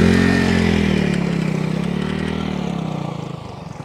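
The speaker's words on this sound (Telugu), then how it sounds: "వెనకాల కూడా ఒక బైక్ వస్తుంది చూడండి" A motorbike rides through floodwater in a river-island village, its engine droning loud and close, then slowly fading as it moves away, with no speech.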